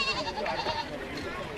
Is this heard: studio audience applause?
no